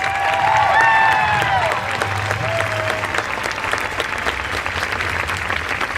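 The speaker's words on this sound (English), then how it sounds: "Let's give them a round of applause" Crowd applause and cheering at the 2018 Topeka Women's March, dense sustained clapping with a few whoops and voices mixed in, loud and close throughout.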